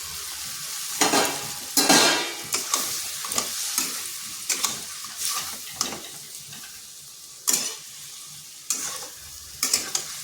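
A spoon stirs ivy gourd coated in mustard and poppy seed paste with turmeric and green and red chillies in a pan. Intermittent scraping strokes rise over a soft, steady sizzle, close up, and no one speaks.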